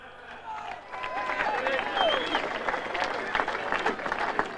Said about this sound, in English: Would you please give a warm round of applause to Ted Whitten Jr. to announce the Man of the Match.